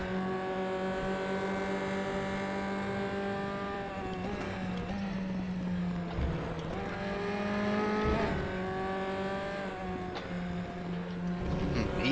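Race car engines in the RaceRoom video game whine steadily at high revs, dipping and climbing through gear changes, with other cars close by throughout.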